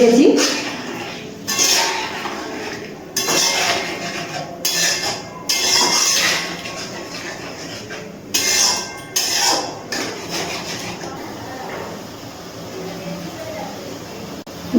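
A spatula scrapes and clinks against a pan over a high gas flame while Bengali pabda fish curry is stirred and mixed. The strokes are irregular, moderately loud metallic knocks and scrapes, with occasional talk and quieter stretches between them.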